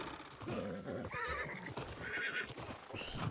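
In the game New World, a horse whinnies several times over background hoofbeats, the calls loud and near across a few seconds of continuous game sound.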